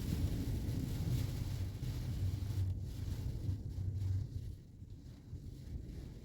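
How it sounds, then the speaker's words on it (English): Strong storm wind roars and buffets in a steady low rumble, easing somewhat toward the end. "Just very windy right now."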